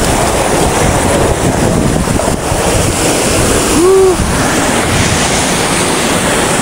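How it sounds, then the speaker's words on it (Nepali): A mountain river rushes beside the Dhaulagiri base camp trail, its steady loud roar filling the whole span without a break, with no voices. "यस्तो खोला तरेर जानुपर्ने।"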